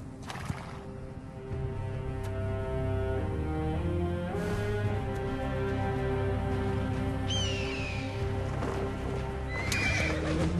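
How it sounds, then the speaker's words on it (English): In the video game Assassin's Creed Origins a horse clip-clops steadily, its hooves thudding close. Snorts and a couple of sharp neighs rise above the steady trotting, with faint bird calls in the background and no talking. "Hold to call your horse for assistance."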